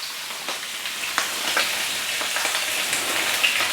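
Pieces of tongkol tuna frying in a pan until dry, with a steady close sizzle and scattered crackling pops.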